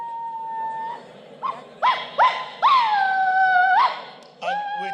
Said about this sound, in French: Vous entendez l'aboiement d'un chien.